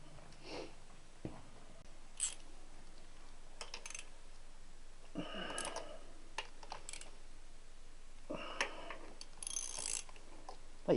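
Ratchet wrench fitted with deep sockets working on a Triumph T120 engine during a rebuild, giving scattered short bursts of clicking with pauses between, fairly quiet and close.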